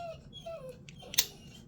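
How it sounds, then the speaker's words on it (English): A dog whimpers indoors, a few thin high whines rising and falling over a second, followed by a brief sharp sound, fairly faint against a quiet room. "Sorry, that's my dog."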